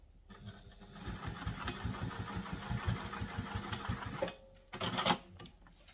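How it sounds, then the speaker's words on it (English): A sewing machine topstitching a vinyl sling bag runs in a fast, even burst of needle strokes for about three seconds, then stops, followed by a brief rustle. "now turn it over and we're going to top stitch it down"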